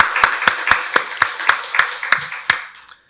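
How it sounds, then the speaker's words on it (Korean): A church congregation at a Sunday worship service claps together in a steady, evenly spaced rhythm, about ten sharp, close claps, then stops abruptly. "박수로 하나님께 영광 돌리겠습니다"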